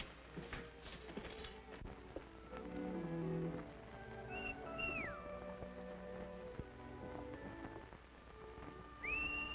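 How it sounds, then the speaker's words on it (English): Brief rising and falling whistle tones sound twice amid a busy background in a 1930 early sound western, cutting through moderately loud and fairly close. "I could have sworn I recognized that whistle."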